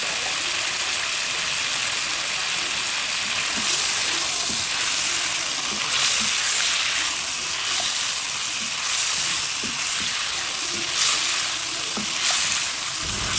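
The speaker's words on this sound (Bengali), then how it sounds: "চিকেনটাকে আমি ভালো করে হালকা করে ভেজে নিয়েছি।" Chicken pieces fry in a pan for a chicken roast, giving a loud, continuous close sizzle with occasional scrapes and stirring clicks running throughout, no voices.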